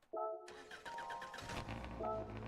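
Subaru Impreza 22B rally car engine in the Gran Turismo 7 video game, with menu tones at the start, then a steady engine running note that persists close and loud for a couple of seconds.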